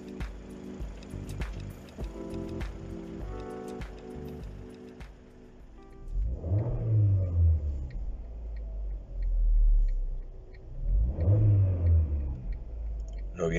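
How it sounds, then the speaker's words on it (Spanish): Lancia Delta GT-Line Turbo engine revving hard twice in succession, each blip rising and falling loudly and close, after a stretch of ticking and idle engine noise, with no one talking. "Lo bien que suena este coche."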